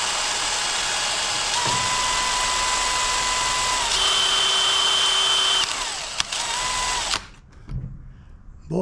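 A power drill whines steadily at high speed, its pitch shifting a few times as a small bit bites into a hardened bolt on a riding mower, then cuts off, followed by brief clanks.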